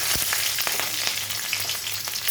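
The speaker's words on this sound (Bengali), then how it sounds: "তেলটা গরম হয়ে গেছে, দিয়ে দিচ্ছি সর্ষে আর শুকনো লঙ্কা" Mustard seeds and dried red chillies sizzle in hot oil, giving a steady, close, crackling hiss with small pops throughout and no talking.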